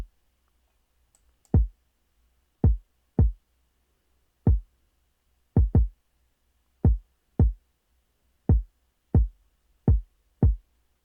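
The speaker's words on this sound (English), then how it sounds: "So the kick pattern that I came up with sounds like this." Deep kick drum from an emotional R&B type beat, about a dozen boomy low thumps in a sparse, uneven pattern, played alone with silence between hits.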